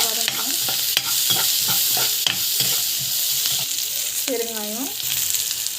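Chana dal, urad dal and nuts sautéed with turmeric, a constant close sizzle broken by repeated scraping strokes of a spoon in the pan; a brief voice rises near the end.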